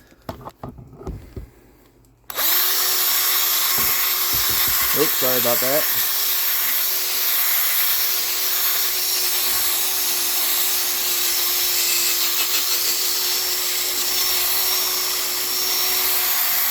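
After a few quiet words, a power sander with a lubricated sanding disc kicks on, wet sanding a 2010 Subaru Forester headlamp, and runs with a loud, steady whir that holds constant to the end.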